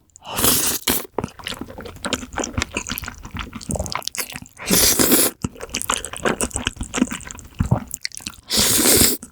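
Spicy Yeopgi tteokbokki with glass noodles and mozzarella being eaten up close, with wet chewing, squishy bites and slurps in uneven bursts, several louder rushes of noise between the mouth sounds.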